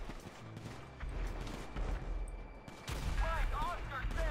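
Explosions and gunfire rumble in GTA V, a mix of booms and crackling shots in the background with someone speaking over them.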